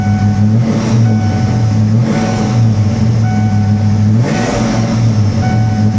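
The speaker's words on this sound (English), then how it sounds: "You can hear that supercharger." A supercharged Ford Mustang engine idles with a loud, steady drone and a thin supercharger whine on top, swelling slightly a few times.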